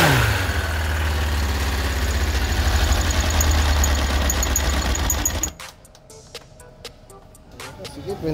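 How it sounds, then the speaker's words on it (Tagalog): A Kawasaki motorcycle engine, ZX6R or ZX9R, runs steadily and close with a dense, buzzing mechanical drone, then cuts out abruptly, leaving quiet clicks and tapping. "So ito, maandar na yung makina, kaso putik, ang sikip umikot ng makina eh."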